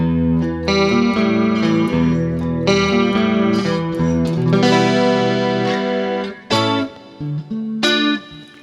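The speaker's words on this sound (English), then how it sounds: "Here the shimmer reverb is engaged." Electric guitar chords and notes from a Harley Benton Fusion through a BOSS GT-1000 ring out with a bright, shimmering reverb that hangs and swells behind each strum, loud and close.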